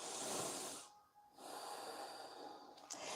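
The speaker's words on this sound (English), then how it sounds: "Lift your chest as you inhale and exhale through your nose." Slow, fairly close breaths during a yoga pose, a long airy exhale through the nose followed by a brief pause and then another soft, hissing breath.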